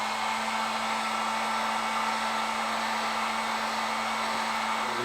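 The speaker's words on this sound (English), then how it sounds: "I decided I'm going to heat these up a little bit with a heat gun so that they should be more pliable" A heat gun blows steadily and loudly up close, softening rubber feet for a portable multiple-roll tape dispenser, with a constant, unbroken whoosh and no talking.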